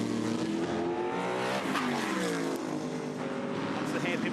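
Formula 5000 race cars at Pukekohe roar past in a continuous loud engine din, with rising and falling revs as they chase each other, and a race commentator talking over the noise.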